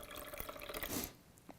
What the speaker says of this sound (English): we're going to pour a little bit of water into there